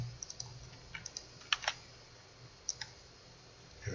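Quick, light key clicks on a computer keyboard, typed in short irregular bursts with pauses between them, faint and close in a quiet room.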